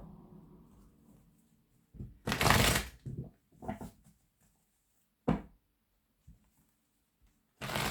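Oracle cards being shuffled by hand during a tarot-style reading, heard as several short bursts of papery riffling and flicking separated by quiet pauses, fairly close and moderately loud, with no talk.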